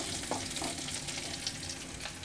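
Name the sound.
tamarind water poured into hot pan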